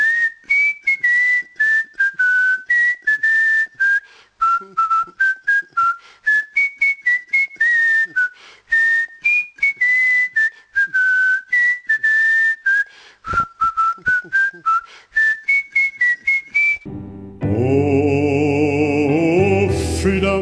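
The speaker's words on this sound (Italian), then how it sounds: "ma almeno sai fischiare" A person whistles a tune alone, a bright, clear melody of short repeated phrases with brief pauses, followed at the end by a louder burst of instrumental music.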